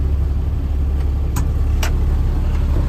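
A 1998 Freightliner FL60 truck engine idles steadily, a constant low rumble with no talk, heard from close by.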